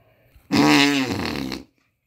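Elephant fart sound effect: one long, loud, buzzing blast of about a second with a steady low pitch, standing alone against silence.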